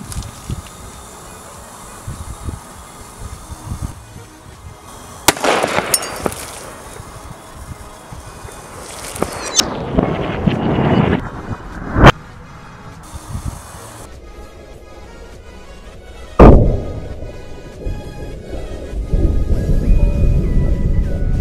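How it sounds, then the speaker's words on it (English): Sodium reacts explosively with water in a plastic container, with sharp sudden bangs and bursts of hissing crackle scattered among quieter stretches, several loud cracks standing out. "the reaction of sodium with water is somewhat energetic"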